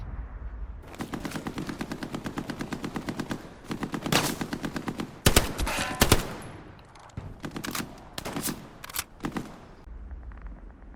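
Machine gun fire in the World War II shooter game Hell Let Loose: long rapid bursts of loud, close automatic shots, some sharper single cracks and mechanical clicks between bursts, no talking.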